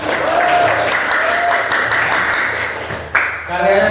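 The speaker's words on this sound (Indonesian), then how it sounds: "Tepuk tangan untuk kelompok buletin kelas." A class claps for a student bulletin group, steady applause filling the room with a voice speaking over it and a brief break near the end.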